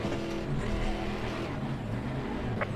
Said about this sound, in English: like a proper V8